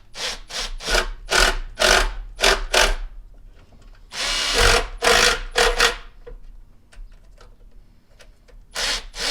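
A power tool drives bolts while the intake is refitted on a Ford Explorer 3.5 engine, sounding as loud repeated whirring bursts separated by short pauses, with one longer run in the middle.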